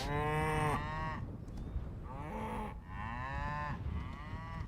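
A cow in the Hytale video game moos in long, loud, drawn-out calls, three separate lows back to back with brief gaps, close and clear with no talking.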